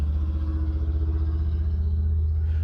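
A noisy car's engine rumbles at a steady, close, low pitch for a few seconds, with no voices over it.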